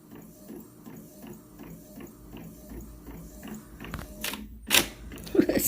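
A printer feeds plain paper in slightly sideways, a steady rhythmic mechanical ticking and rattling that grows into louder clacks and grinding bursts near the end, with a voice talking over it.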